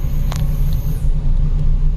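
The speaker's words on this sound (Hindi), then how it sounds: "ये डंपर बड़ा धीमे चल रहा है" Dumper truck crawling along a rough, bumpy forest road at night in Jim Corbett National Park, heard as a steady low engine rumble close by with no talk.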